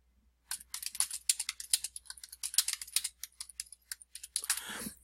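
Rapid, light keystrokes on a computer keyboard as a message is edited, with quiet, steady clicking in quick irregular runs and a brief flurry right at the end.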